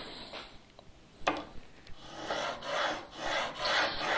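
A woodworking chisel is drawn across diamond sharpening stones in a honing guide, a quiet rasping scrape in a few even strokes that grow steadier and louder toward the end, with no voices.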